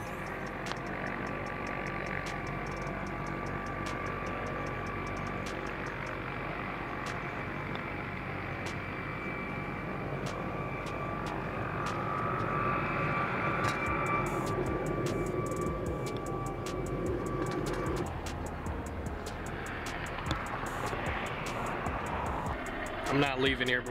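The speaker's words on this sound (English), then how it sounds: "there's a lot of weird sounds in this video, like helicopters and cars driving by" Traffic from cars and aircraft drones steadily in the distance beside a golf course, a continuous low rumble that swells slightly toward the end, with voices talking faintly over it.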